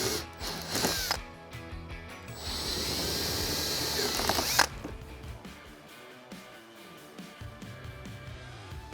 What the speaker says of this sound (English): we're going to take a 5/16 drill bit, and we're going to drill each one of those out.